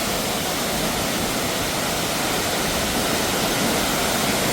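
A waterfall in Sri Lanka roars as a steady, dense rush of falling water, loud and close, with no voices and no breaks.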